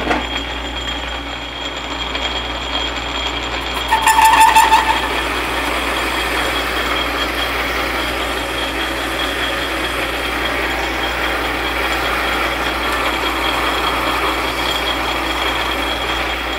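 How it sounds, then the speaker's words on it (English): A homemade spring cut-off tool cuts on a lathe, a steady mechanical drone with a grinding whir from worn gears running throughout, plus a brief louder bump near the start, with no talking. "probably what you're hearing is my gears"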